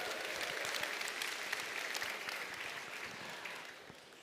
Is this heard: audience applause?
yes